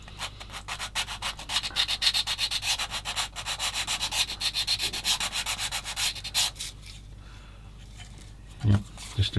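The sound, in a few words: sanding plastic model kit with a new sanding stick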